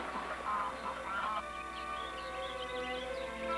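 Wild geese and newly hatched goslings chatter and honk in spring, a quiet mix of overlapping calls and peeps sounding close by over a low hum.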